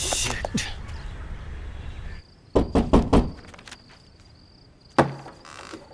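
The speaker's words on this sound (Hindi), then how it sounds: "मैंने तुम्हें कितनी बार कहा है कि खटखटाए मत" Knocking on a door during a police station scene in a Hindi film, a cluster of three or four firm raps followed after a pause by one more knock, over background hum and a faint tone.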